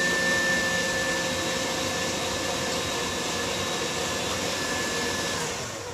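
An electric mixer whips eggs into cake batter for a classic crumb cake in a home kitchen, giving a loud, steady motor whir that runs without a break and eases off slightly at the end, with no talking.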